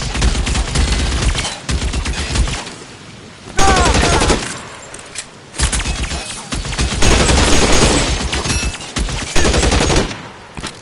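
Heavy gunfire from L.A. Noire, with loud bursts of shots and rapid fusillades coming in waves, separated by short quieter gaps.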